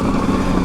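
A Zontes 703 F motorcycle rides over rocks with a steady, loud engine drone and no break in the sound, close to the microphone, with no voices.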